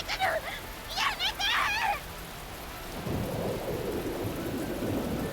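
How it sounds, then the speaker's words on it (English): Heavy rain pours steadily as a deep rumbling roar of thunder rises beneath it, in a visual novel game sound effect; a voice speaks briefly over the rain at the start. "Rising above the pattering of black rain, a baleful roar filled the air."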